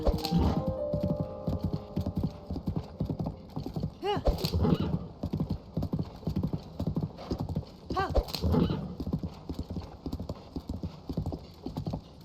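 A horse in a Zelda video game gallops with rapid, loud hoofbeats and lets out two wavering neighs, one near four seconds and another near eight, while game music plays along.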